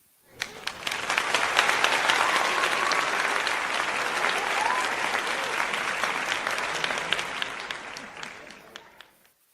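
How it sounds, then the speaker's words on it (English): A crowd applauds steadily, clapping swelling quickly, holding for several seconds, then tapering off. "let me get you some applause"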